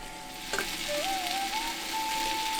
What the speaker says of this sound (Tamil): அடுத்து நறுக்கி வச்சிருந்த நாட்டுக்கோழி கறியில 1/2 கிலோ கறியை மட்டும் சேர்த்துக்குவோம்.